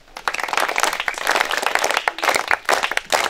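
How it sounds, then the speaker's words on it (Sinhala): Small group clapping in applause at a home gathering with children, a dense run of sharp claps that carries on steadily for a few seconds at close range. "චමින්ද මාමට අත්පුඩියක් ගහන්න ඕන."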